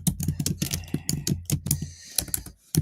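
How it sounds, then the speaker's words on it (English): Keys clatter on a computer keyboard in quick, uneven bursts of close, crisp clicks, with a brief lull before a final few keystrokes. "We're gonna type something in here."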